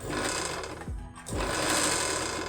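An electric sewing machine motor runs a steady mechanical whir while stitching cloth, cutting out for a brief pause before starting up again, close and loud with no talk.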